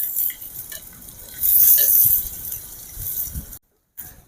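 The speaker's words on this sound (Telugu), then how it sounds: "పొడవుగా కట్ చేసి పెట్టిన నాలుగు పచ్చిమిర్చి ఇవి దోరగా ఫ్రై అయ్యేంత వరకు ఫ్రై చేసుకుందాం" Four long-slit green chillies frying in hot oil in a pan for a tomato masala curry, giving a steady close sizzle with a louder burst partway through, light stirring scrapes, and a brief silent gap near the end.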